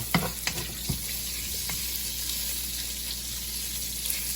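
Oil sizzles steadily in a pan while meat renders down for jambalaya, a constant fizzing hiss with a few brief clinks and stirring knocks near the start.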